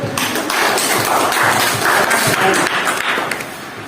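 A classroom audience claps for a student group that has just presented, a dense, loud patter of many hands filling the room for several seconds before easing off.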